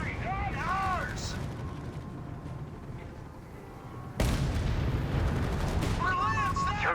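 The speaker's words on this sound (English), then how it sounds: "Shots fired. Contact heavy MG." Gunfire and heavy machine-gun bursts in a Company of Heroes 3 battle between Wehrmacht and US forces, a dense, continuous clatter with a sharp, louder surge partway through, mixed with unit voice callouts.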